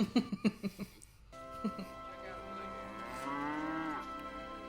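A cow lets out a long, drawn-out moo, loud and close, after a few short bursts of laughter.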